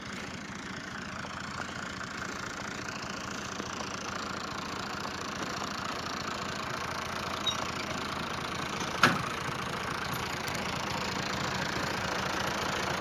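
A steady, even motor engine hum drones on throughout in a village, with one brief sharp click partway through and no voices.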